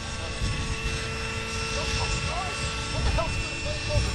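An F3C radio-controlled helicopter pirouettes and climbs in a competition flight, its high, whining rotor and engine drone shifting in pitch and holding steady, with a voice narrating over it.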